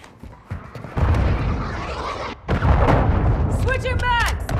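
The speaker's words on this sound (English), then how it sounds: "Friendly cruise missile deployed." A cruise missile strike in Call of Duty Modern Warfare II lands as a heavy, loud rumbling blast, followed by a second sustained roar of explosions, with sharp electronic chirps near the end.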